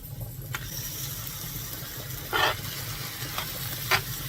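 Shrimp sizzle in melted butter in a pan, a close, steady crackle with a few louder bursts and scrapes as they are moved around.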